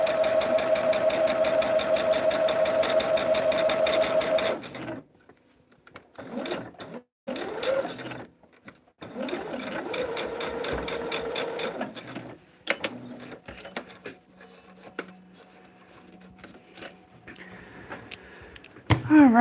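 Sewing machine with a quarter-inch foot stitching a quilted table runner, a loud steady whirring run of stitching followed by shorter bursts and pauses, close up with no talk.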